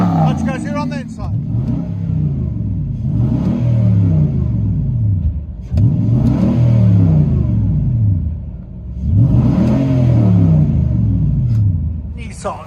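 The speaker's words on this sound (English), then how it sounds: "Flowmaster Super 10. Dual in, dual out. Nissan Titan." Interior cabin sound of a 2007 Nissan Titan 5.6-liter V8 with true dual Flowmaster Super 10 exhaust, loud repeated revs rising and falling in three deep rumbling pulls, heard alone.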